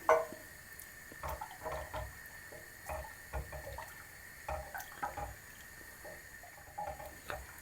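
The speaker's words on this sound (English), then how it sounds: "I'll just have to pour it in a jug and pour it in." Homemade blackberry vinegar poured into a jug gives soft, intermittent splashing and trickling, fairly quiet and close, with no talk.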